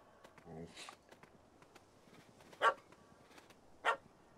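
A dog in The Witcher 3: Wild Hunt gives two sharp barks a little over a second apart, moderately loud, over a quiet background with earlier voices and soft footsteps.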